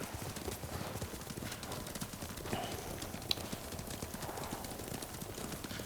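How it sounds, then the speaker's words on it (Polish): Hooves clip-clop in a steady, rapid galloping rhythm as a horse runs in the video game Ghost of Tsushima, with an occasional faint whinny over constant ambient game noise. "Boże, ale ten koń się dziwnie zachowuje."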